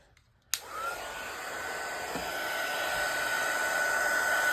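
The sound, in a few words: dryer drying glue on a paper craft journal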